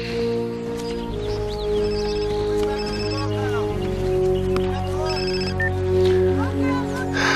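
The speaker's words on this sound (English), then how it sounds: "Your phone." A telephone rings with a repeated bright electronic bell pattern, heard up close over background music, while a person speaks briefly.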